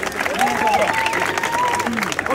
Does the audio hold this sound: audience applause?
yes